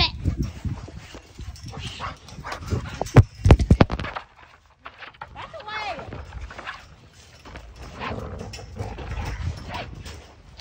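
Dogs fussing over peanut butter, with close, high whimpers, snuffling and a few sharp yips, mixed with a person's loud voice and some handling noise, then quieter whining and movement.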